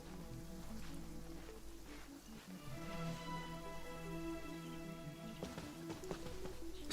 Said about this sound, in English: Marching in the rain conceals the sound of our arrival